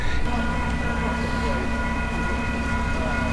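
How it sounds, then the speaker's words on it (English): A plantation tourist train on Oʻahu is readied for a ride, giving a steady, continuous rumble with a low hum and tonal whine, fairly loud and unbroken, with faint voices mixed into the background. "They are getting the train ready."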